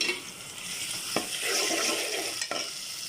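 Onions frying to golden in a pot for white bean lobia curry, a continuous close hiss and sizzle with two brief knocks of a spoon against the pan.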